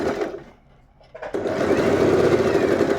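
Usha Janome Allure DLX electric sewing machine stitching fabric, its steady motor whir starting after a brief pause and running continuously, close and fairly loud.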